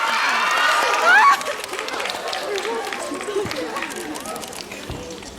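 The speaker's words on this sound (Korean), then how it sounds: "큰 박수 주세요." Audience applause and cheering at a Korean film live-talk event as actors Son Hyun-joo and Park Seo-joon are welcomed to their seats, a dense crowd roar peaking early then settling into steady clapping and chatter.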